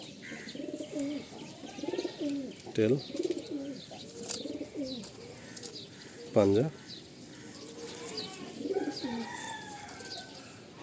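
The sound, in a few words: pigeons cooing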